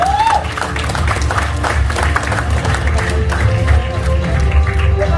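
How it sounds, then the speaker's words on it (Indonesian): An audience bursts into loud, dense applause and cheering for a speaker at an indoor gathering, a brief voice rising at the start over the sustained crowd. "Tepuk tangan Bapak Ibu."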